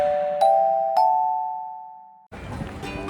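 Electronic notification bell chimes twice in quick succession, bright ringing tones that hang and fade over about two seconds before a noisy outdoor background cuts in.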